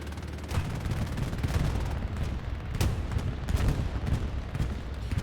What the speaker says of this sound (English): Bombing run closing in